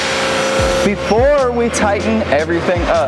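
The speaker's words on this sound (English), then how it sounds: "what you hear in the background is the Mandrel benders and the vacuums that go over the welding stations" A steady roar of mandrel tube benders and extraction vacuums over welding stations fills an exhaust fabrication shop, running continuously behind someone talking close by.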